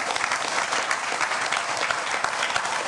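Audience applause welcoming Professor Jung Keun-sik, a Seoul National University professor, at the 2019 Jeju Forum on Jeju 4.3, a steady dense clapping from a crowd filling the room at an even level throughout.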